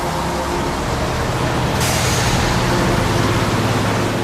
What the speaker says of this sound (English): All of a sudden we just heard the roar of lorries coming towards us